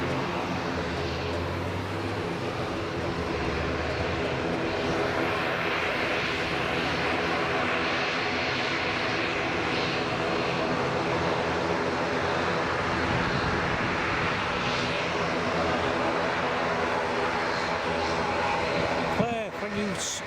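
Jet2 airliner at Leeds Bradford Airport, a steady loud engine roar sustained throughout, with a voice talking over it.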